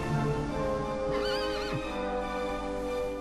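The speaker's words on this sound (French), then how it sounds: "Le cheval qui est attaché là est magnifique, je ne crois pas avoir déjà vu une aussi belle bête." Horse in the video game Dragon Quest 8 gives a clear, wavering whinny partway through, rising and shaking before trailing off, set over steady game background music with no talk.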